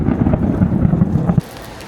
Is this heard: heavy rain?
yes